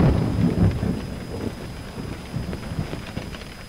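Rain and rolling thunder in the horror video game Cry of Fear, a loud dense rumble that fades slowly over a constant wash of rainfall, heard alone without voices.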